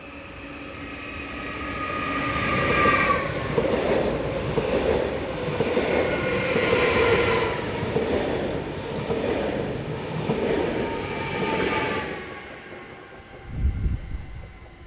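Swiss train unit 526106, running the 0612 from Zurich to Chur, pulls in as a steady rumble with rising and falling electric motor whine and rail noise. It is fairly close and sustained, then eases toward the end, with no talking.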